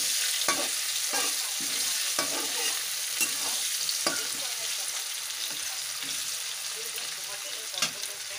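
Ingredients for idli sambar roast in a pan with a bright, constant sizzle and regular scraping strokes of a spoon against the metal, close and alone.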